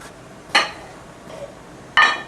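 A warm plate is picked up and set down on a counter, making two distinct ceramic clinks about a second and a half apart with quiet room tone between.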